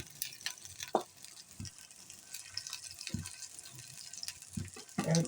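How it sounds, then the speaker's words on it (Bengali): Ginger fries in a pan while being stirred, giving a soft steady sizzle broken by occasional scraping knocks of the spoon, faint and close. "আমার আদাটা ভাজা হয়ে গেছে। আদাটা আমি নেড়ে চেড়ে নিলাম।"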